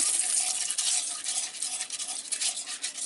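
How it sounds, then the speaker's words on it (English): Flour, salt and black pepper being stirred in a hot pan for a sausage gravy roux, a close, scraping, brushing swish in uneven strokes with a faint sizzle beneath. "You want to get this stuff a stirring"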